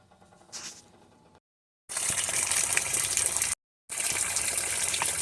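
Water gushes hard and steadily from a broken-loose old PVC elbow pipe leak, loud and close, cutting out briefly between two sustained bursts.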